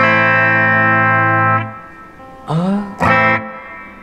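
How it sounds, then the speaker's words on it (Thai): Electric guitar played through a Line 6 Spider Classic 15 amp in reverb mode, a loud sustained chord ringing out and fading, then two short bright chords with a roomy wash of reverb. "เดี๋ยวให้อาจารย์ลองเล่นในโหมดรีเวิร์บดู"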